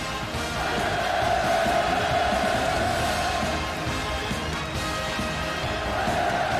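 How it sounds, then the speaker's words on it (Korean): A large audience at a commemorative art performance roars a sustained wave of cheering and hurrah shouts, dense and continuous throughout, echoing through a big hall. "열화 같은 만세 환호성이 터져올라"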